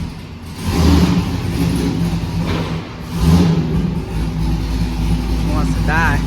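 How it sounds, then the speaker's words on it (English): A Corvette pulled onto a dyno, its engine rumbling and briefly revving up twice at close range, with voices in the background. "Pulling it in on the dyno now."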